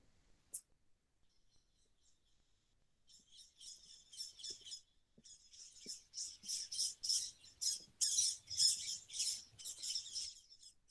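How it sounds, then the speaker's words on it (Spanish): Birds chirp in the gardens of the Alcázar, Seville, with sparse high calls at first growing into a busy, rapid run of bright twitters, fairly near and clear over a quiet background. "La cantidad de pájaros que se oyen."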